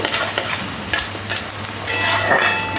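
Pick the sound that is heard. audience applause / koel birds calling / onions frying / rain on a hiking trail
onions frying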